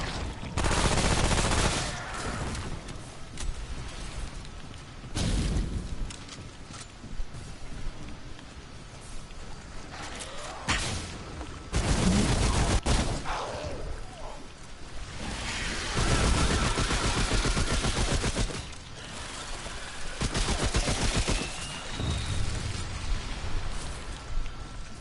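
Assault rifle gunfire in the game Remnant: From the Ashes comes in loud, repeated bursts of rapid shots that alternate with quieter gaps across a long stretch.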